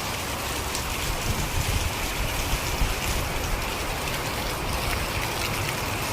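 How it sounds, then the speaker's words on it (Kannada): Heavy rain pounding down during a road trip near Kollur, a dense, loud, continuous hiss and patter filling the whole stretch with no one speaking. "ಎಷ್ಟು ಜೋರು ಮಳೆ."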